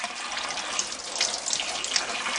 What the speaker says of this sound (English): I run them under cold water.